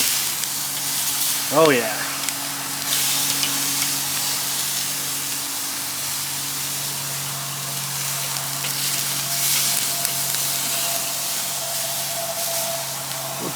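Steak fajita filling with peppers sizzles steadily in a hot pan, a constant frying hiss with a brief burst as it is flipped, while a voice speaks briefly over it.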